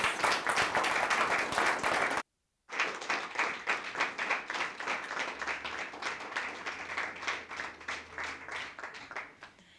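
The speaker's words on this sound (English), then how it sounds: "Let's give Carole a big round of applause." Steady applause for a guest speaker on a webinar about old house history, fairly quiet and even, with a brief dropout of complete silence before the clapping resumes and continues.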